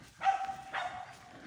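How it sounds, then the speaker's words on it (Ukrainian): A dog barks twice in a forest while mushrooms are being gathered, two sharp mid-distance barks about half a second apart, moderately loud against quiet woodland. "У нас собаки з нами, як завжди."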